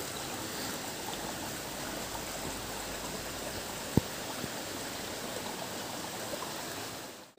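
A forest stream near Kanthalloor and Marayoor rushes steadily without pause, a broad, even wash of flowing water with a single sharp click partway through.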